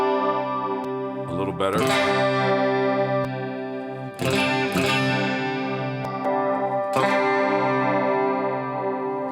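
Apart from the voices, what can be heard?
guitar distortion through cabinet simulations on Getaria Cube Baby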